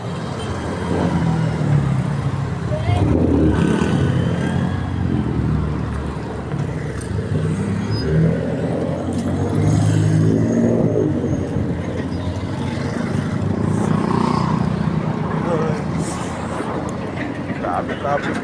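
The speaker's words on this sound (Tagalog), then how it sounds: "Grabe traffic kahit na gabi." Dense night road traffic rumbles steadily nearby, with engines idling and passing vehicles forming a continuous low roar, while people talk over it at intervals.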